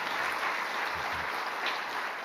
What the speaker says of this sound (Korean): 수고하신 우리 교사 선생님 자모회를 위해서 박수 한번 합시다